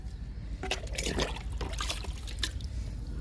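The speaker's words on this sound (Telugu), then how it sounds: "చూడండి బెండకాయ బెండ మొక్కలకి ఇచ్చేసాను లిక్విడ్" Liquid fertilizer poured from a container onto okra plants growing in a tub, a steady close trickle and splash of liquid lasting a few seconds without speech.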